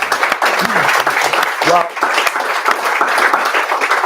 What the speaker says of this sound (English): I feel like that deserves a round of applause